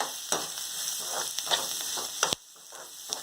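Onions frying with salt in a hot pan for tomato rice give a steady close sizzle, broken by a few sharp stirring clicks and scrapes, with no talking.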